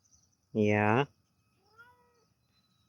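A cat gives one loud, close, drawn-out meow, followed by a softer, fainter trailing cry in a quiet room.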